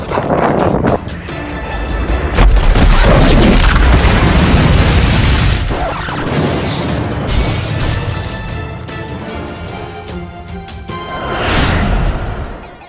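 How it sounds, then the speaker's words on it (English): A massive airstrike explosion in a video game, a loud sustained boom and rumble that swells after a brief lull, fades slowly, then rises again in a second surge near the end, with no talk. "I managed to survive that massive explosion with a well-timed ninja roll"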